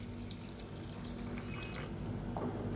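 Water runs steadily into a pot of sambar, a continuous splashing pour with a faint hum in the background.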